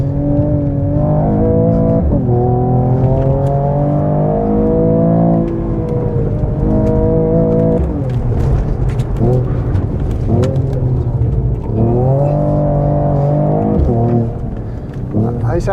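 A 2023 Mercedes-AMG CLS 53, roughly two tonnes, accelerates hard as its rear steps out. The engine rises in loud, close, repeated surges of revving, with brief dips between pulls.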